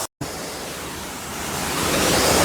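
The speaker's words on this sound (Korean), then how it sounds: "여기가 기림사 뒤에 도통골 폭포라는 데입니다" Yongyeon waterfall at Dotonggol behind Girimsa temple, running full after heavy rain, gives a steady rushing roar that swells slightly louder over the clip, after a brief dropout at the start, with no talking.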